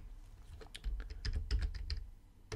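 Rapid keystrokes clatter on a computer keyboard as someone types in the Nuke compositing software, a quick burst of close, crisp taps over a faint low thump, with no voice.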